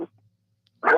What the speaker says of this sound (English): pardon the dogs barking.